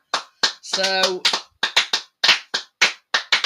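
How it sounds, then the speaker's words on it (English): Clapping from a small group at a home baking session, a quick round of sharp, uneven claps with a short spoken word breaking in partway through. "Round of applause to Tim"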